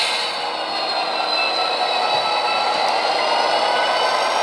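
Model train locomotives switching a box car make a continuous, fairly loud, steady motor whir and rolling hum that holds evenly throughout, with no talking.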